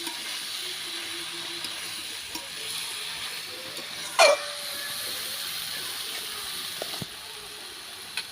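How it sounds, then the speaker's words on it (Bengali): Young jackfruit being stirred into fried spice masala in a pan, a continuous soft sizzle with scraping stir sounds and one brief louder clatter midway, no talk heard. "দেখুন মশলা কষা হয়ে গেছে, ওর সাথে এঁচোড়টা দিয়ে নাড়াচাড়া চলছে।"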